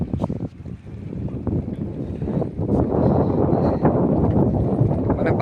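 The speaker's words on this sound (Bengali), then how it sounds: "ওই পার থেকে আরেকটা ট্রলার ছাড়ছে।" A trawler pulling away from the far bank of a riverside ferry ghat, its engine a distant rumble buried under heavy wind buffeting the microphone, with lapping water and no voices.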